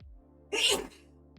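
A single sharp sneeze bursts out, loud and close, lasting under half a second over a quiet background.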